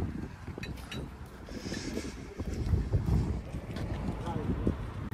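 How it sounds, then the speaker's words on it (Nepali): Cold wind gusts outdoors in Dugopolje, Croatia, rumbling steadily against the microphone at night, with faint, indistinct voices underneath. "चिसो हावा"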